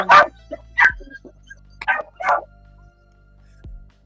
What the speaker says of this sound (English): Some of the barking dogs.